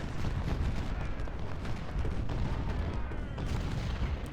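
Artillery and massed gunfire in Ultimate General: Civil War fill a Civil War battle at Corinth with a constant loud, rumbling roar of cannon booms and crackling musketry.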